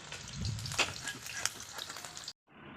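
Potatoes frying in hot oil in a home kitchen while a fish curry with cumin is prepared, a close crackling sizzle with sharp spatters and stirring, cutting off abruptly near the end before a quieter hiss resumes.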